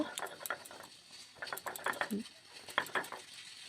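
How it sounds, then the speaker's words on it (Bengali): Boiled ingredients are ground on a sil stone slab, giving quiet, rhythmic scraping and tapping strokes close by while someone talks over the grinding. "আর এখন আমি নিয়ে নিচ্ছি সিলে দিয়ে বেটে নেব।"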